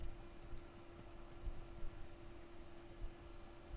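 Keys on a computer keyboard tap out a name in a steady run of light clicks over a soft background hum, close and fairly quiet, with no talking.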